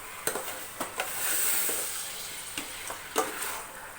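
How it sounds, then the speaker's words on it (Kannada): Chicken sizzles in a hot pan of tempered spices while a utensil scrapes and stirs, giving several sharp clicks over a steady frying hiss. "ಇವಾಗ ಎಲ್ಲವೂ ಒಗ್ಗರಣೆಯಲ್ಲಿ ಚೆನ್ನಾಗಿ ಮಿಕ್ಸ್ ಮಾಡ್ಕೋಬೇಕು"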